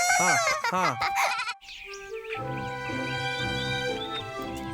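Goat bleats in a few short wavering cries near the start, followed by a sustained high tonal call and layered animal or background tones filling the rest.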